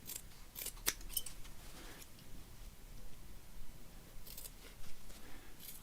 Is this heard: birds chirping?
no